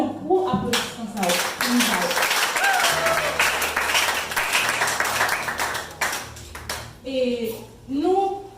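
An audience at a Bible quiz competition day organized by a school ministry breaks into dense applause, sustained loud clapping with voices and chatter mixed in, tapering off near the end.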